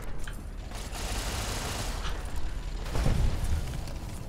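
Sentry bots in the video game Fallout New Vegas, inside a missile silo, fire in a continuous rattling fusillade of gunfire with muffled booms, steady and dense throughout with a heavier burst near the end.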